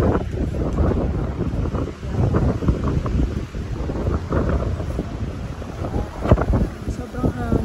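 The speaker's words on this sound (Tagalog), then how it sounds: "Sobrang hangin." Strong gusts buffet the microphone at a cold campsite with tents in Mangili park, Cagayan Valley, in a continuous roar, with rumbling surges and brief louder bursts, while people speak faintly underneath.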